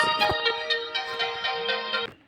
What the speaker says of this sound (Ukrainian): Хтось дзвонить.